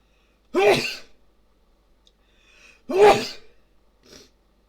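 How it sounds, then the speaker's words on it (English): Two sharp sneezes a couple of seconds apart, close and fairly loud, with a small breath or sniff after the second. "I might sneeze again."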